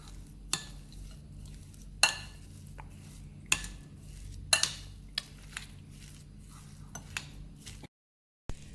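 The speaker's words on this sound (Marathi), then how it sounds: "हे मिश्रण मी हाताने चांगलं मिक्स करून घेतले" Beetroot vada mixture with spices, chopped onion and coriander being mixed by hand in a bowl, giving soft squelching stirs punctuated by several sharp clinks of a utensil against the dish, with no one talking.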